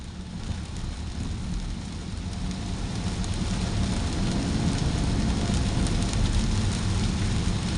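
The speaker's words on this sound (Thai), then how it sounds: "วันนี้ฝนตก" Rain pours continuously onto the road by the Bangkok–Pattaya motorway frontage road in heavy evening traffic, a thick, even hiss that grows a little stronger and stays unbroken throughout.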